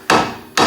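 Two sharp hammer blows strike the steering knuckle of a Honda Civic Del Sol to free its CV axle, each a loud metallic smack, close up, with a short pause between them.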